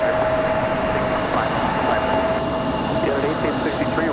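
Jet airliner engines at Raleigh-Durham airport give off a loud, continuous roar with a steady whine, as a United jet is cleared for takeoff. A voice talks over the engine noise.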